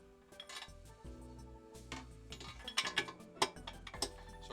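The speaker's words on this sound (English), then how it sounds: "Now you want to work this bearing out evenly." Sharp metallic taps ring out irregularly as a punch drives a wheel bearing out of a Suzuki GSX-R 600 motorcycle wheel, close and fairly quiet, with a few louder strikes near the end.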